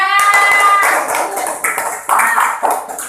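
Primary school classroom applause, children clapping in uneven bursts that start abruptly, fade, then return, loud and close, with a brief tonal sound at the start.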